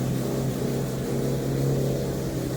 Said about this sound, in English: and the sound, just that car idling